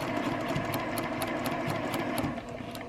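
Sewing machine stitching fabric, a quick regular ticking rhythm of the needle mechanism over a low motor hum, close and fairly quiet, with no talk.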